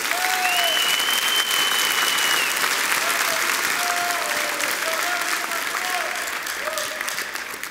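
A church congregation breaks into loud, sustained applause, a thick continuous roar of many hands that stays strong and slowly eases off, with faint voices and a few high tones drifting over it.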